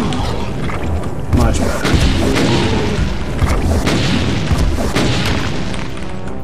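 Rocket launcher explosions in the video game Doom 2, dense repeated booms and crashes piling up loudly across the whole clip, with someone talking over the gameplay.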